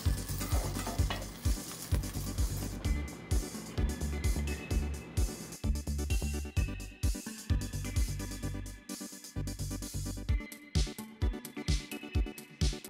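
Egg and bread cooking on a preheated comal over medium-low heat for an egg, ham and cheese toast, giving a steady close sizzle broken by repeated soft scraping and tapping strokes, with no talking.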